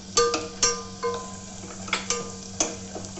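Chana dal goes into hot oil for a tempering for pulihora, giving sharp, irregular crackles and pops at close range over a low, faint background hum.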